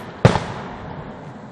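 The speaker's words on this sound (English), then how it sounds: "Hancock, New Hampshire, fireworks." A single firework bursts with a sharp boom at a 2013 display in Hancock, New Hampshire, then a rolling echo fades away, heard from a distance.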